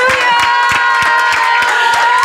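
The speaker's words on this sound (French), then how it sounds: "Je suppose que ces applaudissements sont pour moi." Clapping from a church congregation during a worship service, sharp claps landing in a steady beat over sustained singing or music, with a crowd filling the room.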